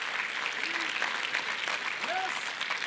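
Church congregation clapping along steadily during a sermon, a dense continuous wash of hands that runs under brief raised preaching vocal sounds throughout.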